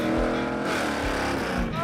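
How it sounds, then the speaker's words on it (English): A car's clutch gives out during a drag strip run in bad weather, the engine roaring loudly and steadily with a harsh, wavering drivetrain tone throughout. "Oh, that was the clutch going away."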